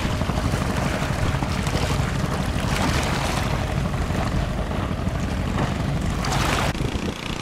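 A wooden-wheel-steered fishing boat chugs slowly through a crowded harbor lined with moored vessels, its engine rumble blending with continuous wind and water wash close by.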